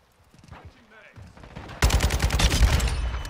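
Rapid bursts of gunfire from a first-person shooter game, with a few quiet shots at first and then a loud, dense volley in the second half, heard alongside a voice.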